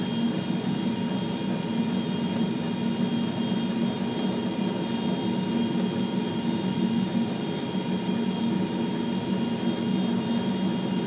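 Jet engine of a Bombardier CRJ 700 airliner spooling up during engine start, a steady loud broadband roar with a constant whine, heard alone without talk.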